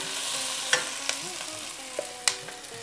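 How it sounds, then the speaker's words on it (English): Sliced potato sautés lightly in a pan, a soft steady sizzle broken by a few quiet clicks and scrapes of stirring, close and low in level. "we're just gonna saute our potatoes lightly"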